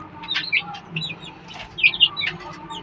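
Young Peru cross chickens on a farm give scattered high chirps and soft clucks, fairly close, with intermittent calls over a quiet background.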